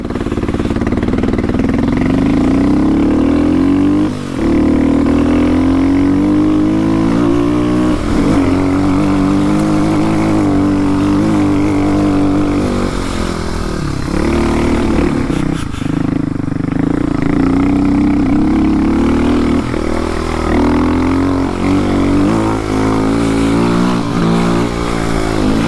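A cold motorcycle engine runs roughly and loudly for the whole stretch, its uneven tone rising and falling as the revs wander, with no talk over it.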